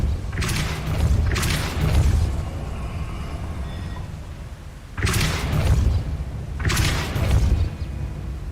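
Four deep, booming blasts from the Repulsor spell in Hogwarts Legacy come in two pairs, each a heavy whoosh-thump that rings out a moment before the next.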